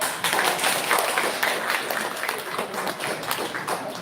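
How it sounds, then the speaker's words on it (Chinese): A group claps softly, the light patter of many hands blending into a gentle, continuous applause. "轻轻拍手。"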